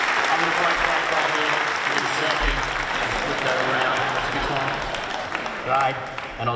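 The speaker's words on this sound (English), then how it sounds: "Give Andy Thomas a big round of applause, ladies and gentlemen, Australia's own" A large audience claps for Australian astronaut Andy Thomas during the IAC 2017 opening ceremony, a broad, continuous roar of applause that thins slightly toward the end, with someone speaking over it.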